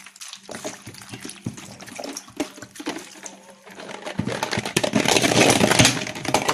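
Ice-cold fridge water with ice cubes pours over okra in a bowl, a steady splashing rush with scattered clinks of ice that swells louder and fuller toward the end.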